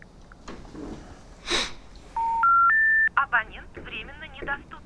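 A phone is dialed: a rising series of beeping tones, several short bursts in quick succession, amid sniffing, rustling and brief voices.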